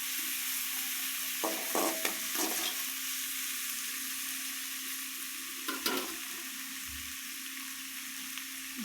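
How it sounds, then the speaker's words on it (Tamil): Tomatoes and onions frying in a pan for simple veg rice, with a steady sizzle throughout and a few scraping stirs of a spoon against the pan, close and clear, with no talking. "அடுத்து இந்த தக்காளி போட்டு நல்லா வந்து கிளறி விட்டுக்கலாம்."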